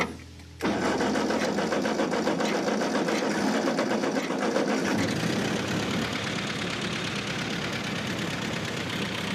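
A Ford 8N tractor's flathead engine starts abruptly and runs on a slight throttle, with a loud, steady, rapid mechanical clatter close by that eases slightly a few seconds in and keeps going.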